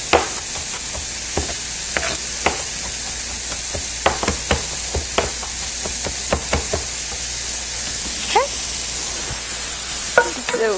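Garlic and mushrooms frying in a pan, a steady sizzle broken by sharp scrapes and taps of a utensil stirring at irregular intervals, close up with no talking.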